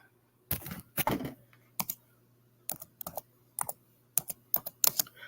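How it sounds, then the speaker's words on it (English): Bursts of computer keyboard typing in short irregular clusters of keystrokes, fairly close and clear, with a steady low hum beneath and no talking. "Typing on the wrong computer."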